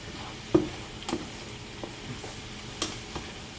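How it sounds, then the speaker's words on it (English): Vegetables fry in a pan for a Mexican breakfast. A quiet, steady sizzle runs throughout, broken by a few sharp knocks and scrapes as the food is stirred, with no talking. "Let those vegetables cook for about a good 2 to 3 minutes"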